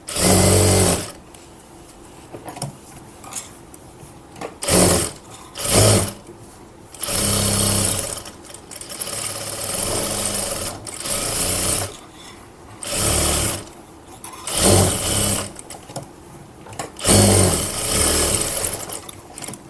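Domestic sewing machine stitching a blouse lining to the main fabric, a steady close whirring run in repeated bursts of a second or two, separated by short pauses.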